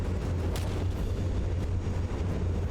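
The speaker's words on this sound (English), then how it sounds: "Oh damn, we got some explosions in the air here" Airborne explosions in the From the Depths naval battle game, with airships and battleships fighting, form a dense continuous booming rumble with a sharper blast early on, loud and unbroken throughout.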